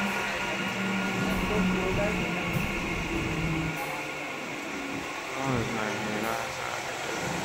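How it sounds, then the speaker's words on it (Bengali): A train pulls into Bongaon station in the early morning, a steady rumbling roar with rhythmic clatter and a brief high squeal, heard close by throughout. "এই যে ট্রেন ঢুকে গেছে বন্ধুরা, দেখো এবার উঠবো।"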